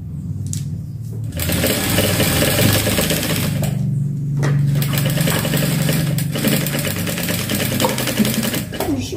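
A sewing machine runs steadily, stitching a seam along the border of a dish towel, its motor whirring with brief pauses and restarts while low background sound persists throughout.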